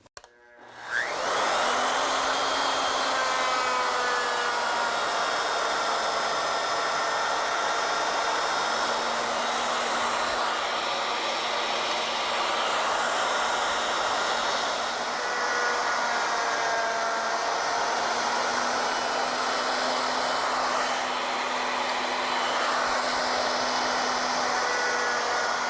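Ornamental milling machine cutting reeds along a template, a high steady whirring motor that starts abruptly and runs continuously at even loudness, with a sustained tonal hum and slight shifts as the cut progresses.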